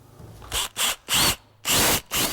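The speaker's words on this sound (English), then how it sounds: "now we're going to drill the bolt holes for our leg bolts going in to support this second post" A power drill bores bolt holes into a log post for a log stair handrail, running in five loud grinding bursts of about half a second each with short quiet gaps between.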